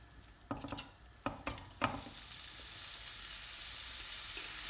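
Onions hitting hot oil in a pan hiss with a few sharp crackling bursts, then settle into a steady, close frying sizzle with no voices.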